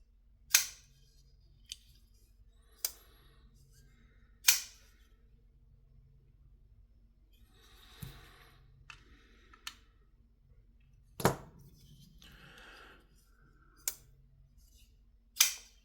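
Civivi Synergy folding knife snapping shut in a quiet room, with sharp close clicks at irregular intervals and faint handling rustle between them.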